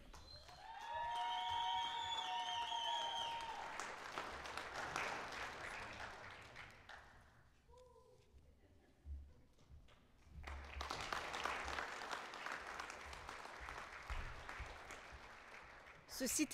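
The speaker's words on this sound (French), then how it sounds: "Applaudissons chaleureusement les nouvelles personnes diplômées des baccalauréats de la faculté de communication." A crowd applauds new bachelor's graduates of a communication faculty at a graduation ceremony, sustained clapping from a large audience in a hall that dips in the middle, then swells again, with a brief ringing tone at the start.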